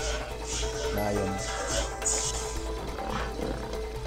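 A lion roar in the video game It Takes Two, a sustained, growling animal roar heard close and moderately loud, with faint voices beneath it.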